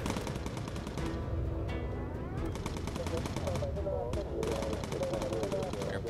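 A bomber's gun turret in Bomber Crew fires at enemy fighters, long rapid machine-gun bursts rattling almost continuously with brief gaps, over droning engines and someone talking.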